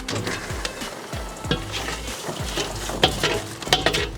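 Popcorn pops in a stirred kettle, with a dense, close run of sharp pops and crackles over a low sizzle and the scrape of the stirring paddle.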